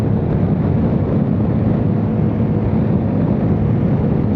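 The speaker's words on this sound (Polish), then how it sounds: "na razie wieje wiatr boczny, więc możliwe, że jednak ten szum będziecie słyszeć." Steady roaring crosswind buffets the microphone while riding a QJ SRT 125 DX motorcycle on the road, a loud, unbroken low rumble with no voices.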